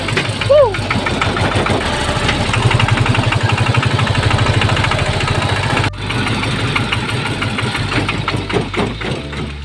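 Engine of an E-taen, a Thai farm vehicle, revving loudly and steadily as its wheels spin in mud, close and continuous with a rough chugging rhythm while someone talks over it.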